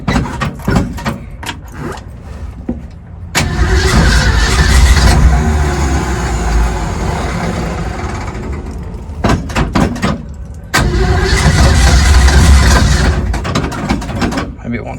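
A Ford Mustang being turned into a vintage-inspired race car, cranking with a starter and catching, then revving in two loud, sustained bursts separated by clicking and rattling, recorded close by.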